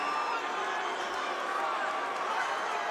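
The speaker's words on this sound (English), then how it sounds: "The crowd raining down boos." An arena crowd at a Bellator MMA title fight rains down a dense, sustained roar of boos. It continues under steady play-by-play commentary.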